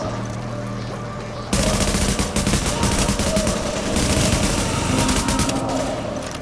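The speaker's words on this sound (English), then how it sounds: "Better use that gun." Sustained automatic gunfire from The Division, a dense rapid barrage that starts abruptly and continues loud and steady for several seconds with little pause.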